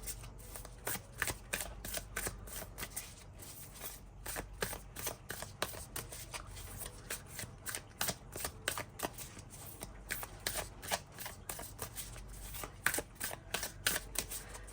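Thin paper oracle cards are shuffled by hand close up, giving a long run of quick, crisp flicking and riffling bursts in an uneven rhythm, with no talking.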